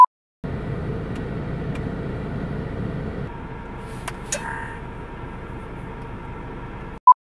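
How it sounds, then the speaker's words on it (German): Inside a parked car with the air conditioning running, a steady broadband fan hiss and low rumble fills the cabin, stepping slightly quieter partway through, with a couple of faint clicks and no talking. "setze ich mich jetzt ins Auto, mache mir hier die Klima an"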